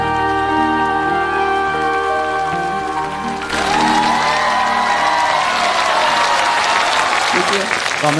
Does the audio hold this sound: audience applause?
yes